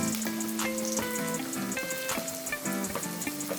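Chopped tomato meets frying onions in a pan, giving a steady close sizzle and crackle with tonal music playing over it throughout.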